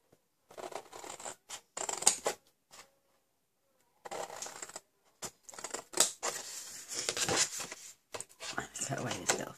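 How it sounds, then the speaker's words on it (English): Long scissors snip through paper card for a fold-flat box in several bursts, each cut a crisp rustling slice with pauses between, close and fairly loud, with a voice speaking at times. "you're going to need long scissors for this, because we're going to be doing a lot of cutting"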